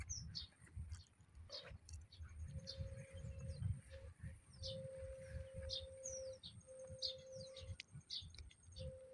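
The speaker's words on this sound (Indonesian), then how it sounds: "Ini ada suara burung apa ini ya?" Birds chirp and tweet near a swamp at Kendal harbour on Java's north coast, with short high calls repeating throughout over a low rumbling background and a steady whining tone.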